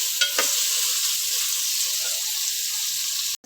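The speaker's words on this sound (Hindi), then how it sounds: "इसको हल्का सा थोड़ा सा भून के फ्राई करके" Bitter gourd and chana dal frying in a pan, a steady bright sizzle with a brief utensil scrape near the start and an abrupt cut just before the end.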